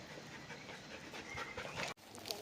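Dogs panting outdoors on a pleasant evening, a steady close breathy rhythm running through the whole stretch with a brief dropout near the end.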